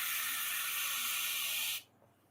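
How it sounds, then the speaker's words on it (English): A spray bottle of starch hisses steadily into a small cup, a loud, close, continuous spray that cuts off abruptly near the end and leaves faint room noise. "I'm just going to spray some of the starch"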